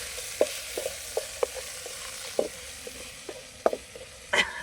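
Crab gravy frying with onion and tomato juice in a pan, with a soft steady sizzle beneath a series of distinct scraping stirs and clinks of a spoon, spaced irregularly, close by.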